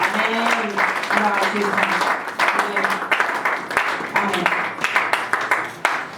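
Church congregation clapping and applauding throughout a worship service, steady and fairly loud, mixed with cheering voices and people talking over it.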